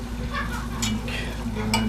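Water poured into a hot pan while cooking pork hisses in a steady sizzle, with scraping and stirring sounds over it.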